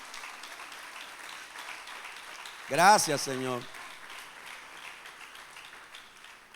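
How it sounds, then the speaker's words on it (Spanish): Church congregation applauding in a steady, moderately distant patter throughout, while a voice briefly speaks over it midway. "Le da un aplauso al Señor por eso."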